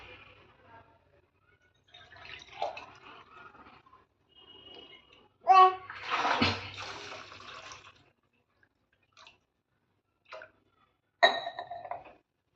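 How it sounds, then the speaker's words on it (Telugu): Water poured into a cooking pot of partly cooked vegetables for Maggi noodles, a short splashing burst in the middle, with scattered clinks and brief kitchen sounds around it amid a quiet background. "ఇప్పుడు వాటర్ పోసుకుందాం."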